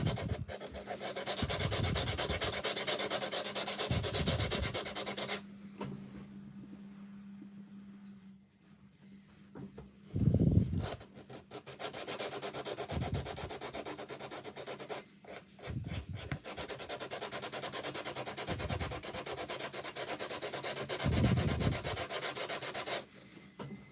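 Steady rasping strokes of sandpaper rubbed by hand over hardened primer on wood, in repeated bursts with short pauses, close and fairly loud.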